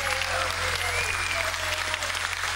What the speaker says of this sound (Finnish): Annetaan vielä aplodit Sarille.